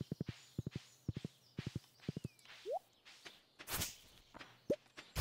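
In the farming game Stardew Valley, a horse's hooves clip-clop in short quick bursts of three or four steps, crisp and close, with a few small game blips and chimes between them.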